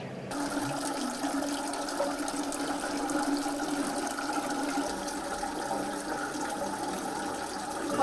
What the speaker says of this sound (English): Listen, you can hear sound of waterfall.